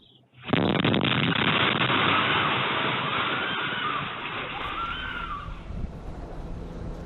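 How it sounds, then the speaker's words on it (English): A loud apartment building explosion erupts suddenly after a moment of quiet and is caught by a neighbour's Ring camera, leaving a long, dense roar that slowly fades over several seconds. "let you hear the alarming video of that actual explosion"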